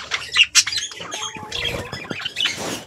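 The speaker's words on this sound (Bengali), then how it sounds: "এখানে আমাদের বদ্যিগুলো আছে।" Budgerigars in a home breeding aviary give sharp, close squawks and chirps in quick irregular bursts, with a few softer calls between them and no talking.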